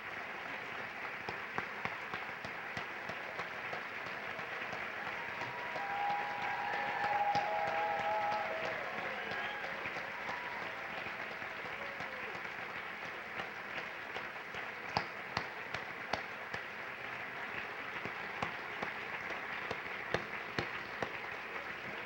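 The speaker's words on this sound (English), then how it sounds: "show them our love and gratitude with one more round of applause" An audience at the 2012 Common Ground Awards gives awardees another round of applause. It comes across faint and distant: a soft, continuous patter of many hands with scattered sharper claps and a brief swell partway through.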